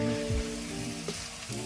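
Egg fried rice made from leftovers sizzling in a hot pan as it is stirred, a continuous close frying hiss with light scraping and tossing sounds and no talking.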